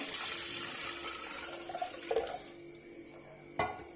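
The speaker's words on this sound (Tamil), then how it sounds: "இப்போ ஒரு டம்ளர் அரிசிக்கு ஆறு டம்ளர் தண்ணி சேர்த்துக்கிறேன்" Water for cooking rice splashes and trickles into a metal pot close by, a gurgling pour that tapers off, followed by a brief clank.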